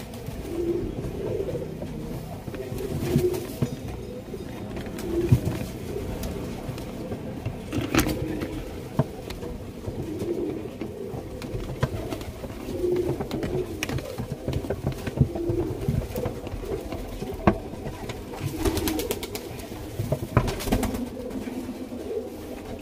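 Pigeons, some of them sick, coo in repeated low throaty phrases at a moderate distance, with scattered clicks and faint traffic noise in the background.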